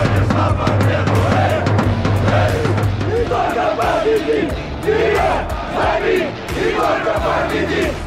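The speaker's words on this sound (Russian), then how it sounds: "Наши болельщики на 5-м этаже стадиона, но тем не менее все слышно, все чувствуется" Football supporters chant and roar together in the stands at an away match in Samara, a loud, sustained massed crowd with rhythmic pulses and shouted bursts throughout.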